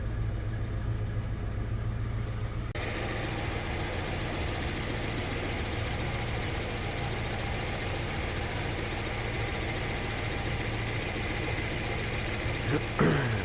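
A car engine idles at a steady, low, continuous rumble with a constant hum, its exhaust burning off water from condensation; no voices are heard over it.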